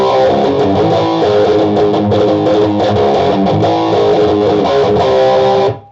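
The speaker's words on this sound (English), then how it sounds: "the first riff of the song is based on a bar chord with one finger" A loud, heavily distorted electric guitar riff in drop D tuning built on a one-finger bar chord, chugging in a galloping rhythm for several seconds before cutting off abruptly.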